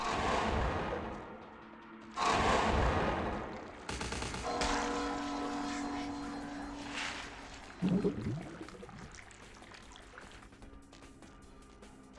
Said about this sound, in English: Wait, who's shooting? You're still shooting.